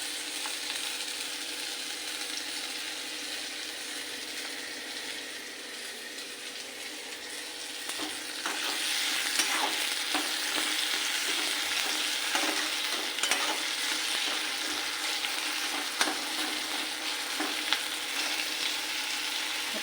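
Chopped onion and tomato sizzling steadily in a hot pan while being stirred, the frying hiss growing louder and busier partway through, with occasional scrapes of a spoon and no voices.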